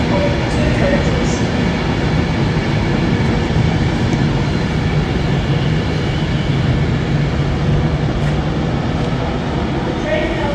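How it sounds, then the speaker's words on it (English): A two-coach passenger train approaches a platform at Stockport station, a loud, steady rumble of wheels and engine filling the whole stretch with no break. "The train now approaches platform 4 to Stockport."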